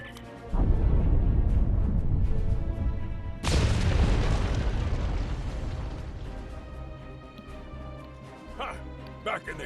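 Rock-blasting explosions in Star Trek Online, two heavy booming detonations a few seconds apart, each followed by a long rumbling decay, loud and close, with a voice speaking around them.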